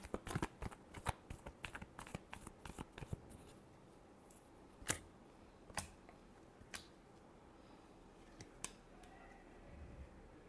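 Tarot cards being shuffled, with a rapid burst of crisp riffling clicks at first, then sparser single taps and slaps spread over a quiet background.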